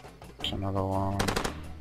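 A quick burst of rapid gunfire rings out in the Far Cry 2 video game, sharp and near, with a voice heard alongside it.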